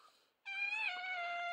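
A cat gives a single drawn-out meow, loud and close, starting after a brief quiet moment and holding steady to the end, with no talking over it.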